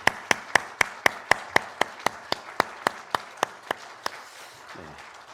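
A church congregation at an Easter Sunday service claps in unison, about fifteen crisp, evenly spaced claps in a steady rhythm that stop abruptly, leaving quiet room tone and a brief soft noise.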